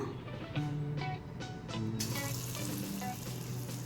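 Hot oil sizzles and crackles as falafel frying begins, a dense, close hiss with a few soft knocks and bubbling pops, no talking.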